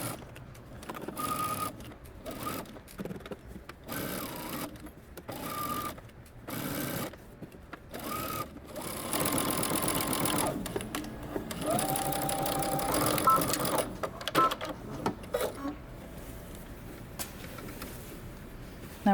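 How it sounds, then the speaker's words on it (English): A sewing machine runs in stop-and-start bursts, stitching a seam across fabric with quick mechanical rattling, close and fairly loud, with short pauses between runs and a longer steady stretch of stitching. "Now we're going to go to the sewing machine, and we're going to stitch across 5/8 of an inch."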